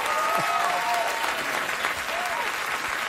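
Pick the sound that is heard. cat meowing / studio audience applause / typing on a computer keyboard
studio audience applause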